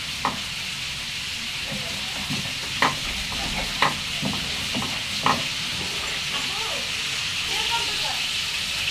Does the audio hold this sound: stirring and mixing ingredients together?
yes